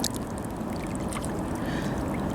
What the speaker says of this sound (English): I'm just going to rinse it off